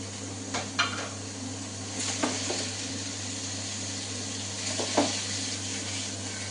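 Salt poured into hot oil in a pan for pork bhuna sizzles with a steady, soft background hiss, broken by a few light clinks and scrapes of a spoon against the pot, with no talking.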